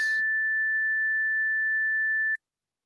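A pure 1.76 kHz sine test tone holds steady and unwavering for a little over two seconds, clean and alone, then stops abruptly.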